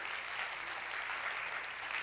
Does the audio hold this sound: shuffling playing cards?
no